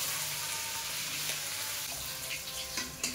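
Fish fry in hot oil seasoned with salt and turmeric in a pan, a steady bright sizzle close by with a few sharper crackles and pops near the end.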